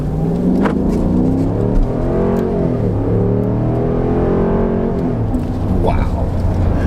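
A 2017 Dodge Durango Citadel accelerates hard from a standstill, its engine roaring steadily and climbing in pitch through the gears, heard from inside the cabin with someone talking over it.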